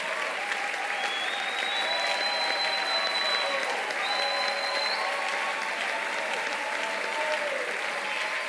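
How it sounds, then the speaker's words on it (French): Church congregation at a Sunday service applauding and cheering, a sustained dense wash of clapping with whistles and raised voices throughout. "Est-ce que tu peux bien acclamer Jésus?"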